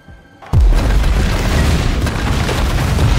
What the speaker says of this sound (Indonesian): Ledakan menelan korban jiwa di sebuah parade di sana.